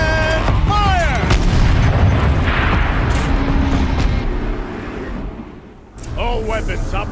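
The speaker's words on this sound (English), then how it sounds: "Rotate turret! And fire!" A tank turret cannon fires in the Horizon Zero Dawn video game, with heavy booming blasts and rumbling, metallic whines and a loud burst near the end. Game voices and effects are mixed in.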